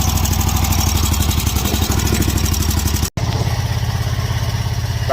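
A 48-inch Snapper Pro zero turn lawn mower engine runs with a fast, steady clattering pulse, loud and close, briefly cutting out before resuming.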